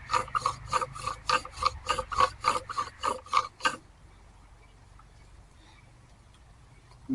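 A wooden spindle in a bow drill friction fire set rasps in about a dozen quick, even back-and-forth strokes, close and distinct, then stops and leaves near silence.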